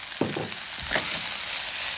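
Water chestnuts and vegetables sizzle in a hot stir-fry pan with rice noodles, soft crackling with a few stirring scrapes near the start, fairly quiet throughout.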